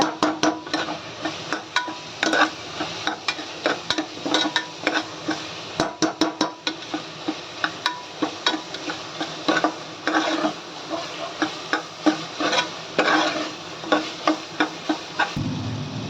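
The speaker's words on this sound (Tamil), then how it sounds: "நல்லாவே கிண்டி விட்டுக்கோங்க" A spoon scrapes around a cooking pot of rice and water, stirring it vigorously. Rapid, rhythmic scraping and clinking strokes repeat steadily, close up, with no talking.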